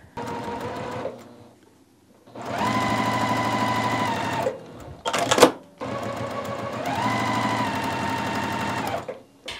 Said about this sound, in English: we're gonna sew diagonally